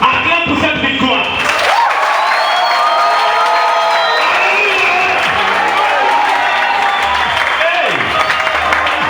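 A large crowd at a church gathering bursts into loud cheering, whooping and sustained applause, with a shout rising above it as the noise keeps going.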